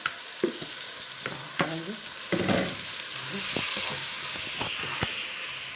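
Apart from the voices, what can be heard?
onions frying with minced meat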